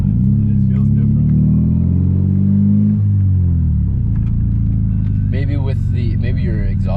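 A Volvo 240 drives at around 50, its engine a loud, steady low drone that rises in pitch and then settles, while people talk inside the car over it.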